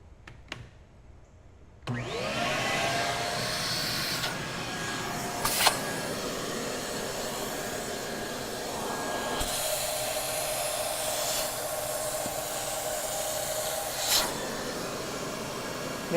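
After a quiet start, an Xtrax extractor machine kicks on and vacuums a dirty car seat with a loud, whining suction roar that shifts in pitch as the nozzle moves across the fabric.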